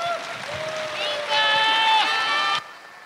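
Applause from an audience at a company talk event, a steady broadband patter of clapping with tonal music lines over it, swelling midway and then cut off abruptly near the end.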